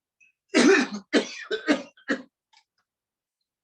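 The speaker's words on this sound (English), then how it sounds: "the fourth time you breathe in and cough loudly" A deep inhale leads into a loud, forceful cough, followed by a few shorter harsh coughs, close and alone in a quiet room during a lung function breathing exercise.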